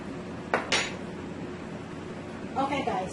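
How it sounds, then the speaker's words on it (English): A spoon scoops seeds out of a ripe papaya, making two short bursts of clinking against the fruit and a dish, one near the start and one near the end, close by with a faint voice underneath. "you're going to take your spoon again, guys, and you're just going to scoop all of the seeds out from the papaya"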